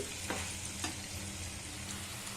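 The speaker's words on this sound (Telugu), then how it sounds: "పచ్చిమిర్చి ఈ శనక్కాయ పప్పులు బాగా వేగితేనే ఈ పులిహోరకి రుచి ఉంటుందండి" Green chillies and peanuts sizzle softly in hot oil as tempering for raw mango pulihora, a quiet, continuous crackle with a few faint stirring scrapes.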